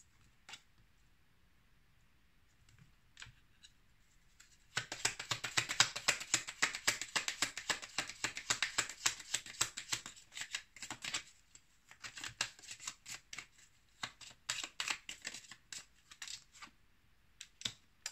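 A deck of tarot cards shuffled and drawn close up, starting with a few faint taps before a long stretch of dense, rapid riffling and flicking, then broken bursts of shuffling, all at a soft level with no talking.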